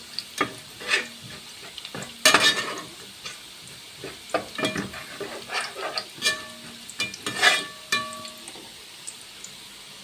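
Five garlic cloves frying in oil for egg shakshuka, stirred with a spoon until golden: a soft steady sizzle under repeated scraping and clinking strokes of the utensil against the pan, close and fairly quiet, with no talking.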